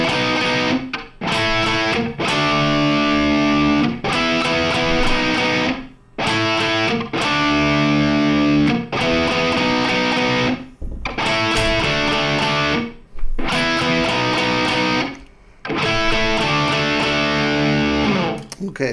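A distorted electric guitar plays a riff: loud chugging chord phrases repeat in steady bursts, with short silent breaks between passages.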